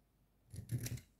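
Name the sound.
scissors cutting a card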